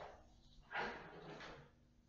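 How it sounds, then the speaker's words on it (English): A door in a room where a group meets pushes shut with a soft thud and some rattle, faint and fairly distant. "just shut the door"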